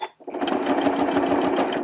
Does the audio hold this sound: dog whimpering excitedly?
no